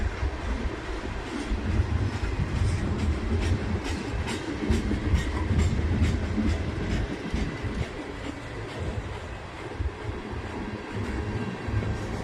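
A freight train with a gondola car of scrap metal rolls past in November, steady wheel rumble and rhythmic clickety-clack over the rails, continuous and fairly close, no voices.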